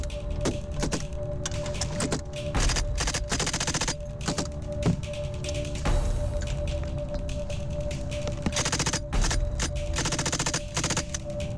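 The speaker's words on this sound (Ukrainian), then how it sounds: "І стрільба." Dense, rapid gunfire crackles throughout a battle in the Bukryn area. Overlapping machine-gun bursts and shots rattle continuously at close range with no pauses.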